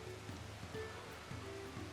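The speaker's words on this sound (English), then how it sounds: "And it actually is raining" Rain falls steadily in the Final Fantasy XIV video game, a soft continuous patter under looping in-game music, with no voices.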